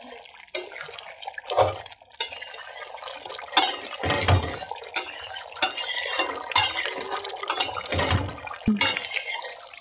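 Spoon or ladle stirring Bengali-style rohu fish curry masala in a pot, a series of scraping, clinking strokes with short bursts and pauses, fairly close and moderately loud.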